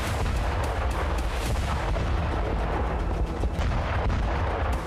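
A loud, continuous rumbling roar of explosions and heavy blasts from a missile strike on an airbase destroying fighter jets, dense and sustained throughout with no pauses, close and overwhelming.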